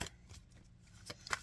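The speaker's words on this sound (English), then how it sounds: "So let's shuffle a little bit more." A deck of cards being shuffled up close, with a short riffle burst at the start and another near the end, separated by soft handling noise.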